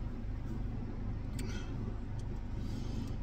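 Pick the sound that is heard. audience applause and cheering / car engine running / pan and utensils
car engine running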